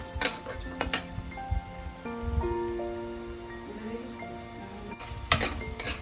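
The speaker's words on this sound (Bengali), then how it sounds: "এবার আমি এটাতে জল দিয়ে দেবো" Water hits fried spice paste for a prawn curry, setting off a soft, rain-like sizzle and scattered crackles in the pan, faint and partly under background music.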